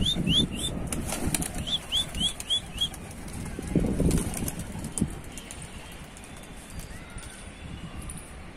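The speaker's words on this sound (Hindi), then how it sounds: "उड़ाते हैं दोस्तों कबूतर।" Pigeons burst into flight with loud, close wing flapping in several bursts over the first few seconds, then the flutter fades as the flock flies off, with faint outdoor background and brief chirps.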